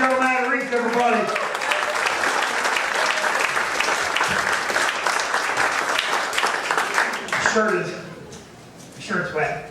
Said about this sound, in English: Clap for Joe Matarese, everybody.